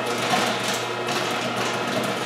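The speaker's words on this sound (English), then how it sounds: "put our exhaust fan on low" A large popcorn machine's exhaust fan runs on its low setting during a kettle corn batch, giving a steady, even whirring hiss throughout with no voices.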